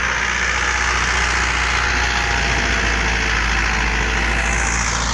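Mahindra 575 tractor engine running steadily under load while working a rotavator, a loud continuous low diesel drone with broadband churning noise, no voices.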